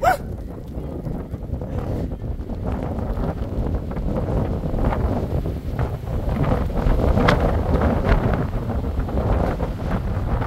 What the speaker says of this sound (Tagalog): Grabe, lakas ng hangin mga lods.